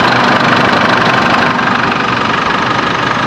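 A Chevrolet Trailblazer engine runs steadily at idle right after a serpentine belt and tensioner replacement, a loud continuous mechanical drone with a slight knocking texture and no talk.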